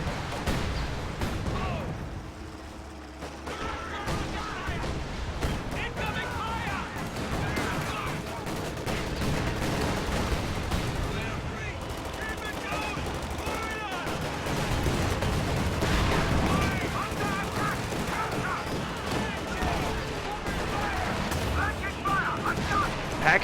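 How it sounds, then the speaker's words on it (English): An anti-tank gun fires through hedges in a World War II strategy game, its shots and artillery booms mixed with steady gunfire and explosions across a busy battle scene, with commentary talking over the action. "AT gun is trying to get a shot off, but it just can't get a line. Fires through the hedges"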